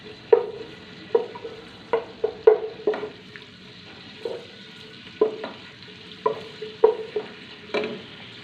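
Garlic frying in a pan on a raised flame, soft steady sizzle beneath repeated scraping stirs of a spoon roughly every second, close and moderately quiet with no talking.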